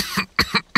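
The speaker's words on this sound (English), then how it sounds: "A harsh cough rattled through his chest." Three harsh, raspy coughs from an elderly man, close and loud, spaced at roughly even intervals with short silences between.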